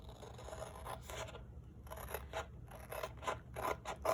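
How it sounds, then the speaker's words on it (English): Scissors snip through sheets of paper along printed cut lines while crafting chalk-transfer coffee mug decorations, a run of close, crisp cutting strokes with short pauses between, quiet and without talk. "So we'll just cut these out."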